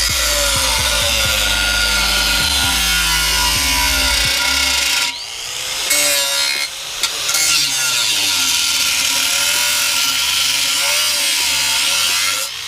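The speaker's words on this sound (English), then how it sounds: "about to slice this muffler up in his fucking front yard" An angle grinder cuts loudly through a car muffler outdoors in a front yard, a harsh, continuous metallic screech that wavers and dips briefly midway before grinding on steadily.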